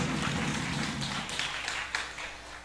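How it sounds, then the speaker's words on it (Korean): Soft, steady applause from a church congregation during a Sunday morning service, heard at a distance as a dense wash of clapping with a few louder claps standing out. "박수 한번 하겠습니다"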